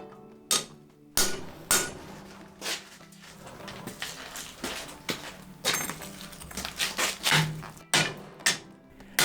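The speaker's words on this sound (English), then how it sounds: "You can see me making grooves with the peen of the hammer" Repeated hammer peen blows on hot Damascus steel, irregular and close, some hard strikes among lighter taps, with clanks and scraping between them; no talking.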